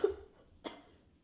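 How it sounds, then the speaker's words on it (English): A person coughs close to the microphone, a sharp initial cough, then a quiet stretch and a second choked, breathy cough before fading to near silence. "trying not to cough in the mic and then I choked"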